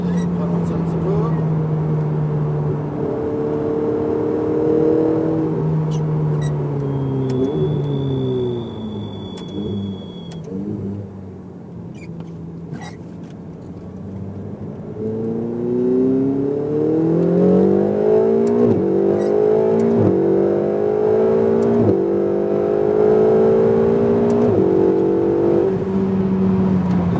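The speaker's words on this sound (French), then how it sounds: "Voilà, rétrogradage, c'est très bien en fin de freinage comme ça, nickel." A car on the Mettet circuit slows under braking, its engine note falling then jumping with downshifts before climbing again as it accelerates, steady and fairly close, with someone talking over it throughout.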